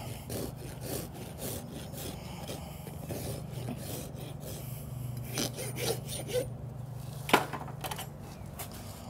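Farrier's rasp filing a horse's hoof to bevel the toe for a barrel horse, with steady repeated scraping strokes at close range and a sharp clink near the end.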